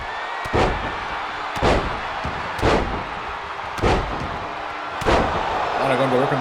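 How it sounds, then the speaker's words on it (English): Wrestlers in the WWE 2K23 video game are slammed onto the mat, giving a series of heavy thuds about a second apart over steady crowd noise. "Just slams Faelitzia to the mat"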